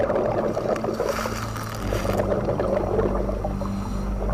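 A dive boat motoring out over rough sea ahead of a typhoon, with a steady low engine drone under splashing water and wind noise, loud and close.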